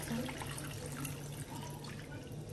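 About one and a half cups of water poured into a pot of fish light soup, a steady close splashing and trickling stream with faint dripping, running continuously without talk.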